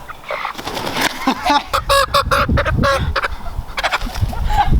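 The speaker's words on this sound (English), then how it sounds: "here's the baby chicken" A baby chicken gives a run of high, rapid peeps and chirps, loud and close, with some low rustling beneath.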